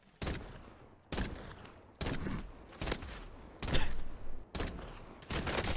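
Gunfire from a video game comes in repeated bursts of rapid, sharp shots with short pauses between volleys.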